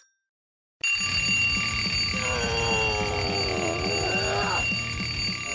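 A cartoon alarm clock rings in a continuous bright, metallic jangle that starts abruptly after a moment of silence, with a wavering tone sweeping through its middle stretch.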